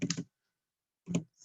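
Typing on a computer keyboard while setting up a Facebook ad, a quick burst of three or four clicks, then a pause and a second short burst, close and quiet with no voices.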